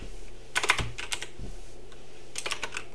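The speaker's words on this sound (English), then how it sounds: "So we're deleting the image by hitting the delete button on our keyboard." Keys clatter on a computer keyboard in a few quick bursts of typing and key presses, close and clear, with no talking.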